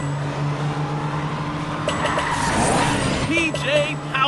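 Cartoon car racing along a track in a PJ Masks game, a steady engine hum with rising whooshes and swerves, joined by bright game chimes and voices talking.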